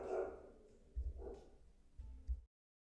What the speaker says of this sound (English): He just likes barking at things 100 feet away.